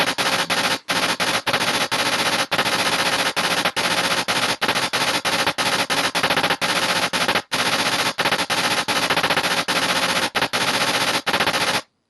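Rapid bursts of synthesized machine-gun fire from Commando on the Atari 7800 come in loud, harsh volleys separated by brief gaps, with no voices.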